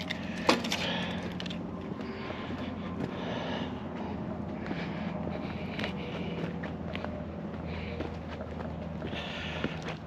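Bunches of vehicle keys jangle and clink as they are sorted on a car lot, a steady rustle of small metallic clicks and rattles with an occasional sharper clatter, close by and without talk.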